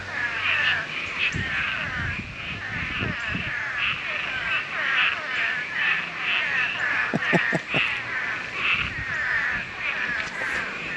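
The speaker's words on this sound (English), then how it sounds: "That's a lot of frogs." A dense chorus of frogs croaking steadily and overlapping throughout in a pond, a loud continuous trilling mass with a few lower croaks standing out.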